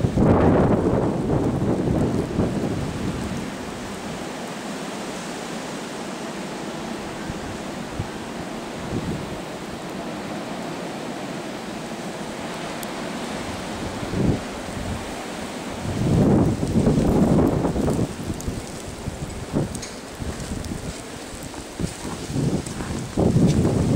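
Wind gusts and roars through trees during a snowy blizzard, a deep rumbling rush that swells loudly at the start and again later, easing between gusts, heard outdoors with no voices.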